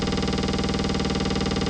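An Elektron Rytm drum machine fires rapid retriggered hits as a dense, buzzing machine-gun stream of identical pulses, steady and loud throughout with no pause, no voices over it.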